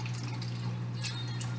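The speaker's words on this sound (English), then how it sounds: "I'm always spilling water everywhere" Filtered water spills and drips in a kitchen, producing a continuous wet trickle with scattered splashy drips over a steady low hum.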